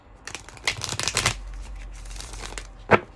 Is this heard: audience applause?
no